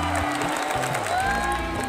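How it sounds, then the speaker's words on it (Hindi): Audience applause at the Star Dust Awards 2017 show, a dense, steady wash of clapping and crowd noise that runs the whole time, with music playing underneath. "thank you for clapping to me"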